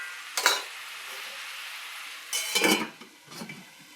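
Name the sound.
spice paste frying in a covered pan (Bengali curry)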